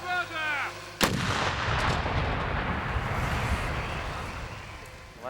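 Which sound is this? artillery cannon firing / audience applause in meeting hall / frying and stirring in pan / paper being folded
artillery cannon firing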